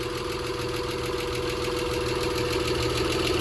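An Acura Legend Coupe engine idles after sitting for over three years, a steady close rumble with a faint rhythmic ticking pulse running evenly throughout, alone without talk.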